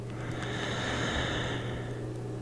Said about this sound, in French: Et on va tranquillement se calquer sur un petit rythme de respiration.